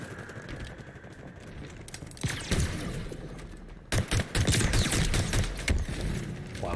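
Gunfire from snipers in a video game: loud, sharp broadband bursts arrive in irregular clusters. The shots grow denser and heavier toward the end, over a steady bed of game noise.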